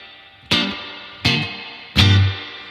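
Guitar played through a Universal Audio UAFX amp simulator pedal with spring reverb fully cranked, three struck chords each bursting into a splashy, drippy reverb wash, evenly spaced and loud, with no voices.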